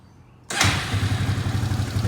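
An Arctic Cat 300 ATV engine, hot from riding and needing new rings, cranks and catches, then settles into a loud, steady, throbbing idle close by.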